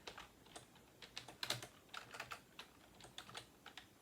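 Rapid keystrokes on a computer keyboard, clicking in quick uneven bursts with brief pauses, close and fairly quiet with no voices.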